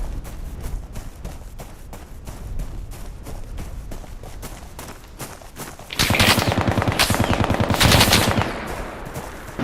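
Gunfire in the video game Bellum: a quick rattle of rapid shots that swells into heavier, louder automatic bursts partway through, continuous and close.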